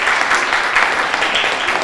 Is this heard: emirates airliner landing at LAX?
no